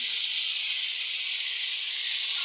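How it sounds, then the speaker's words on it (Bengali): Drumstick pieces and lentil dumplings fry in spices in a pan, giving a steady, even hissing sizzle that holds without a break. "এই যে বড়িগুলো আমি দিয়ে দিলাম, দিয়ে মশলার সঙ্গে একসঙ্গে কিন্তু কষিয়ে নেব।"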